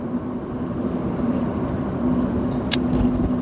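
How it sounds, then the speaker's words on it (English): An old car's engine and exhaust while driving, a steady low rumble and drone heard from inside the cabin, even and moderately loud, with a brief higher click near the end. "It's the sound of the engine as well, and the exhaust are all adding to this"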